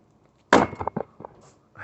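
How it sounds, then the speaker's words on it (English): Number 6 shotgun shot pellets bouncing off the ground during a squirrel hunt: a sudden loud burst of scattered impacts, then several quick patters trailing off over about a second, with a faint rustle afterward. "That's the sound of that number 6 shot bouncing off the ground."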